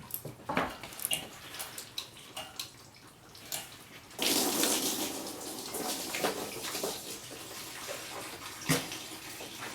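Coolant pouring out of a disconnected lower radiator hose on a Subaru Forester, a faint splashing trickle with scattered drips that swells into a steady gushing stream onto a surface midway through.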